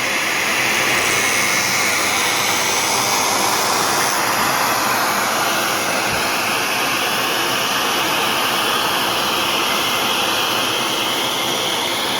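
A figure skate blade is ground on an Ultima Legacy Incredible Edger, giving a steady, loud whirring grind that runs unbroken and close throughout, with no talk over it.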